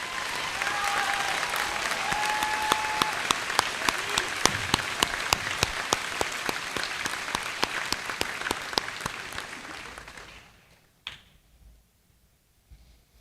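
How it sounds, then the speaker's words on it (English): Audience claps at a high school Class of 2024 graduation ceremony, a loud, steady crowd ovation with some sharp individual claps standing out, fading and stopping after about ten seconds into near quiet. "Please give these students a round of applause."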